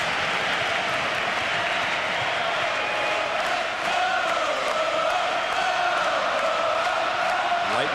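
A large tennis crowd at the Nice 1999 final between Hewitt and Pioline roars and cheers loudly and continuously, a dense wall of voices and whistles with no pause.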